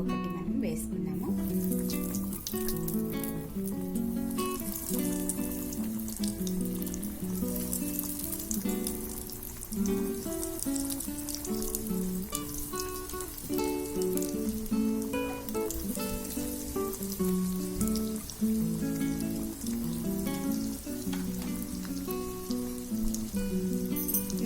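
Chicken nuggets deep-fry in hot oil over a medium flame, a constant crackling sizzle close by, running under steady background music.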